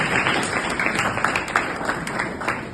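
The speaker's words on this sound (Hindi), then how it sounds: "इसके लिए आप तालियां बजा सकते हैं।" Students visiting Doon Defence Academy in Dehradun applaud as a group, a steady wash of many hands clapping at moderate loudness throughout, with no clear talk over it.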